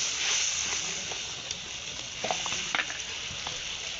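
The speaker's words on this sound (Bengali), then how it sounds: "মশলা কষিয়ে নিয়েছি, এবার দিয়ে দিচ্ছি কেটে রাখা টমেটো" Chopped tomatoes hit oil and fried spice masala (turmeric, chilli, coriander-cumin powder) in a pan, giving a steady close sizzling hiss with a few sharper crackles and pops.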